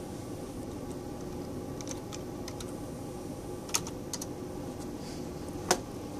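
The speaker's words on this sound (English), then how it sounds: "Can you type YouTube in my keyboard?" Typing on a computer keyboard, sparse, soft key taps with a couple of sharper clicks, heard alone over a faint background hum.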